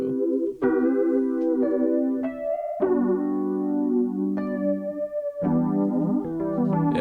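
Electric guitar notes and chords shimmer with a wavering chorus effect, each sustained note swirling and slightly detuned, played alone without any talking.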